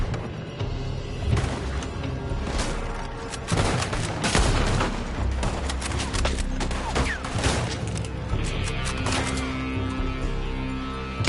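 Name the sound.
gunfire in video game Red Dead Redemption 2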